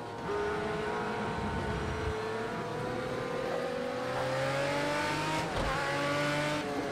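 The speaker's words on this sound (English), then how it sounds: "Oh, these cars sound amazing though." Several car engines drone and rev, their pitch rising and falling as they drive past, with a brief tire squeal near the end.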